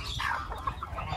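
Ko-Shamo gamecock chickens cluck and murmur close by in a short burst of fowl chatter as a hen is let out, with no talk over them.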